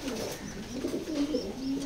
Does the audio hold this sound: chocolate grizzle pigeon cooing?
yes